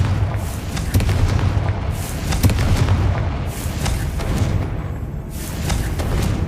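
Confringo blasting spells exploding in Hogwarts Legacy, a series of loud booming blasts with rumbling low-end at roughly one-second intervals, layered over continuous game ambience.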